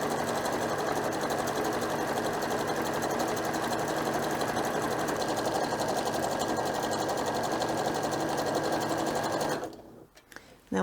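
A sewing machine sews reusable scrubbing pads at a very short stitch length, running in a loud, steady, close whir for nearly ten seconds before cutting off abruptly.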